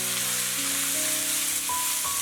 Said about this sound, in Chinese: 炒出香味，下入韭菜。